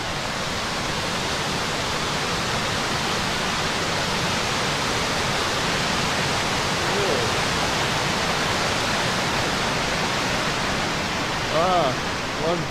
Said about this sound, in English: But what about this for an impressive weir?